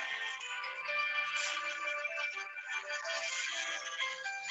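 A phone ringtone plays a bright, steady electronic melody of stepping tones, loud and continuous from start to finish with no voice over it.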